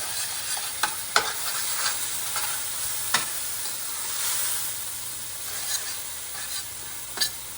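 Onions sizzle steadily in a pan as the base for Punjabi chicken curry, a loud continuous frying hiss broken by occasional scrapes and taps of a stirring utensil, with no voices.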